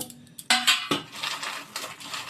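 Spiced semolina nimki tipped onto a metal plate: a few light clinks, then a sharp metallic clatter and a rattling rush of crisp pieces landing, fading into softer scattered ticks.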